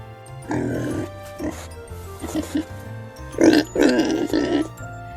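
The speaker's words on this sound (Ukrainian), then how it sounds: "Давайте послухаємо, як вони хрюкають." Pigs grunt and oink in short bursts, several snorting calls coming in clusters, fairly close.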